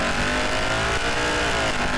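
Mustang V8 pulling off the line in a drag race against a BMW M2, a loud continuous engine roar that builds steadily over a couple of seconds, with no talk.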